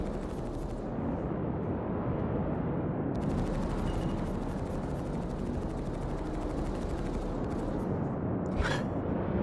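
Gunfire from ships in Star Citizen, a dense continuous rattle of rapid shots over a roaring engine drone, steady and moderately distant, with a brief whooshing streak near the end and no talking.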